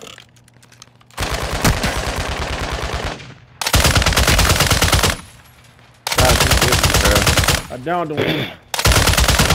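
Loud bursts of machine gun fire in Call of Duty: Modern Warfare II, several long volleys separated by short gaps, with someone talking briefly between them.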